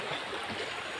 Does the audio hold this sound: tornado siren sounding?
no